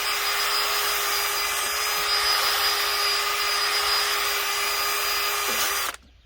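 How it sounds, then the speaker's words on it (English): A wire wheel on a power tool scrubs wax, rust and dirt off the bare frame of an LBZ Duramax truck, a steady loud abrasive whir with a faint tonal hum that cuts off abruptly at the end. "So I started wire wheeling"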